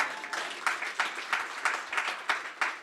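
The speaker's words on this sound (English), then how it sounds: "yes, go on and clap." Audience applause at a live event rises in a quick patter of hand claps, moderately near and fairly light, lasting a few seconds with a faint voice underneath.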